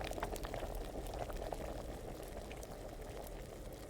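Alchemy potion bubbling in a glass vessel in the video game Kingdom Come: Deliverance, a steady, close boiling burble with dense small pops running continuously and evenly throughout.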